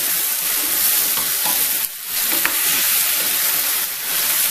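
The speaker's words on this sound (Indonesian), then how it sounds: "Oke, ini udah saya masukkan, saya aduk-aduk lagi." Diced yellow pumpkin sizzles steadily in a frying pan while being stirred, a continuous close hiss with a brief dip and a small scrape partway through.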